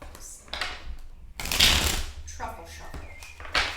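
Oracle cards shuffled by hand in a quiet room: soft riffling and slapping bursts with brief pauses between shuffles, close and fairly faint.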